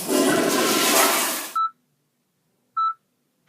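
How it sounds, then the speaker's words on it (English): A toilet flush comes as a loud rushing burst of water for about a second and a half, then stops abruptly, with two short electronic beeps following in the silence. "we invented the flushing toilet"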